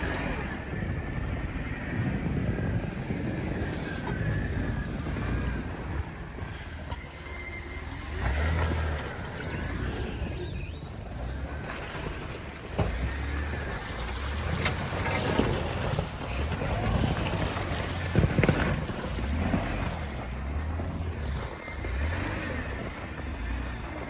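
Jeep YJ pulling out of a hole in the ice, its engine a steady low rumble across the whole stretch, blended with wind buffeting the microphone and occasional bumps, at moderate loudness.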